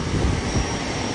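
Steady, loud cabin roar of a private jet's engines heard from inside the plane, a continuous broadband rush filling the short clip.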